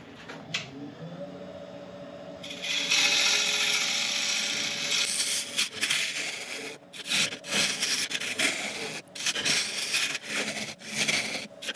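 A woodturning tool is sharpened on a grinder, a sustained bright grinding hiss that starts abruptly and runs steadily, close and loud, broken by a few brief pauses and no talking.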